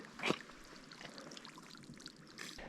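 Water draining out of a beaver-flooded pond back into a creek at an off-grid property, a faint steady trickle and wash with a brief splashy burst at the start.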